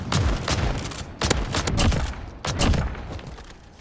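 An R9-0 shotgun fires in Modern Warfare, a burst of several loud, sharp blasts in quick uneven succession, each with a punchy low thud and short decay, mixed with game effects.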